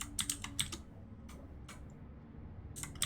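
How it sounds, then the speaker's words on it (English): Mechanical keyboard keys clatter in quick irregular bursts of crisp clicks, close and fairly quiet over a low steady background hum, with no talk. "I know you are hearing the keyboard clicks. This is a mechanical keyboard that I'm using"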